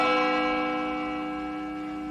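A single bell rings out with a rich, sustained tone that slowly decays over a couple of seconds, standing alone and fairly clear.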